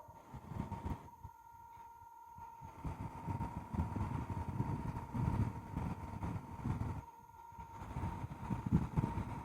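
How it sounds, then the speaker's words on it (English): A soft buffing wheel hums steadily while polishing a finished wood piece, a low whirring drone with brief dips and swells as pressure is applied, fairly close, no talk. "And see how soft this buffing wheel is? I've been applying the same pressure"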